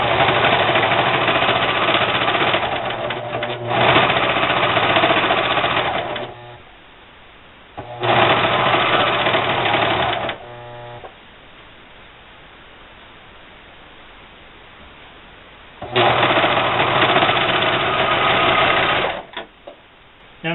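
A serger overlock machine stitches T-shirt fabric in three loud, steady whirring bursts of a few seconds each, separated by quiet pauses.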